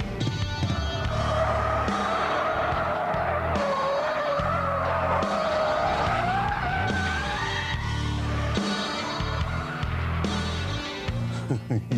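A 370 horsepower supercharged Jaguar spins its wheels with traction control off, tyres screeching loudly and continuously over a revving engine, with shifting pitch and a few brief gaps.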